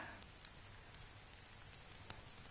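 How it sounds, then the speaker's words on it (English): Steady rain falls in the survival video game Green Hell, a soft continuous hiss with faint scattered drop ticks, quiet and without voices. "Damn it, the rain again."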